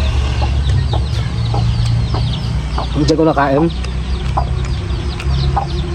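Chickens cluck and squawk repeatedly nearby, with a short burst of louder calling in the middle, over a low rumbling hum and a person speaking briefly.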